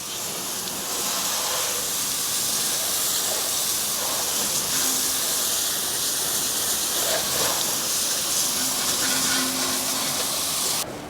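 Steady, broad hissing spray of a water rinse washing cleaning chemical off a car wheel, continuous and fairly close for the whole stretch with no talk.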